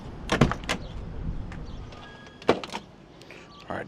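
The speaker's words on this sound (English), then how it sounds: "doors open up wonderfully" Car doors on a 1966 Chevelle SS opening and latching, two sharp mechanical clunks about two seconds apart with lighter handle clicks, close by in a quiet setting.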